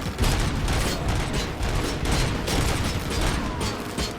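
Sustained machine gun fire from an enemy gunner in Robocop Rogue City, loud dense bursts of rapid shots rattling continuously without pause, with no talking.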